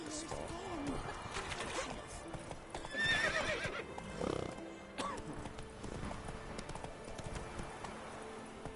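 Roach, a horse in The Witcher 3, neighs once mid-clip over a rustling, scuffing background of hooves and movement, moderately close and fairly quiet.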